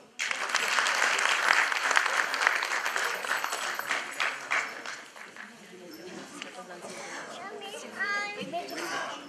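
Audience applauding a traditional Aromanian dance group, loud continuous clapping that fades midway as children's voices and chatter take over.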